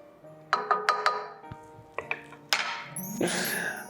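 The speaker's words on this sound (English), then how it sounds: "Give it a stir." A spoon stirs a hot holiday drink in a pot, giving a quiet series of light metallic clinks and taps with a faint ringing tone.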